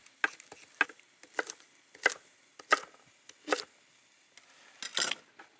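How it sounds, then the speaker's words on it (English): A blade strikes repeatedly while peeling asparagus on a cutting board, giving about eight crisp, close scraping clicks at an uneven rhythm with short gaps between them, and no voices. "So we peel the asparagus"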